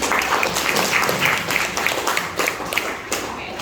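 A classroom of pupils claps together, a busy close patter of hands that runs throughout, with some voices underneath.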